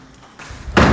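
A door slams shut near a temple at night, one loud heavy thud arriving abruptly after a quiet stretch.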